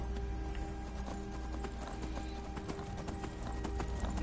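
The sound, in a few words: horse hooves clip-clopping, from video game Skyrim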